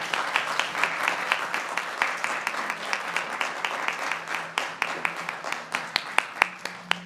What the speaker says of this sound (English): Let's give another round of applause for Elizabeth.